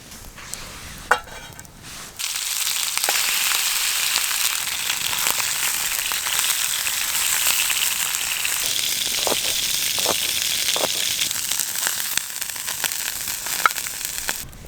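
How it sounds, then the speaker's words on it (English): Potatoes sizzling in butter in a pan over a campfire while backpacking in the Snowy Mountains, a steady close, loud frying hiss that starts about two seconds in and runs throughout with occasional small crackles and pops. "we'll just fry up this potato."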